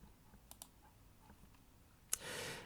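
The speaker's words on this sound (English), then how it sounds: "click on the OK button" Mouse clicks in software as the OK button is pressed: a couple of faint, sharp clicks early on, then a louder click near the end followed by a burst of broadband noise.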